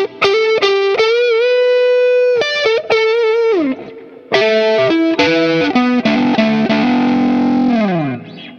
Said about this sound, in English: I think most of us know what a Strat neck sounds like.